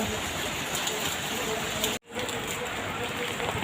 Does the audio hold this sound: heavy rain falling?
yes